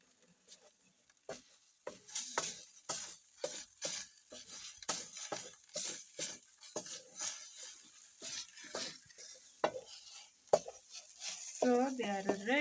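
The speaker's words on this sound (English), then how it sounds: "So we put the oil. And then I put the eggs." Eggs fry in oil in a pan during village cooking, with soft sizzling under repeated clinks and scrapes of a utensil stirring, and a brief voice near the end.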